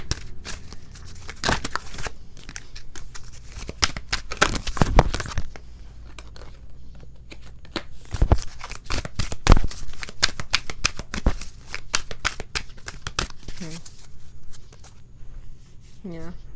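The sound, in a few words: shuffling oracle cards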